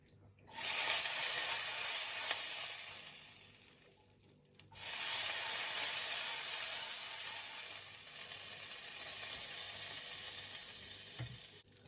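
Spinach and oats breakfast crepe sizzling steadily in a hot pan, a continuous close frying hiss with a brief dip partway through, no talking.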